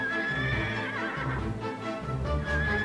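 A horse whinnies loudly throughout, with continuous neighing and some clip-clop of hooves mixed in, close and without speech.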